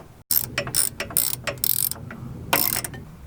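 A ratchet clicks loudly up close as it loosens bracket bolts on an Alfa Romeo Stelvio during a lowering-spring install, several quick bursts of rapid clicking separated by short pauses.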